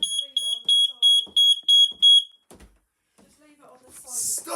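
A household smoke alarm being tested sounds a run of about eight loud, piercing, evenly spaced beeps close by, then stops, leaving quiet room noise, a soft voice and a brief rustle.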